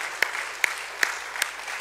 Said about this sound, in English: Give them another hand clap.